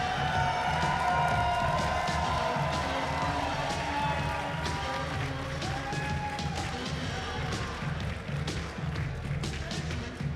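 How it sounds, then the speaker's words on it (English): Audience at the QuakeCon 2014 finals party claps and cheers loudly and steadily, a dense wash of crowd noise with thumps and voices mixed in throughout. "let's give these guys a big round of applause"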